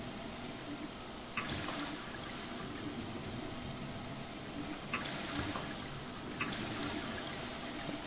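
Water runs steadily from a tap in the Prey video game, a continuous hiss and gush with a few brief splashes, heard alone without talk.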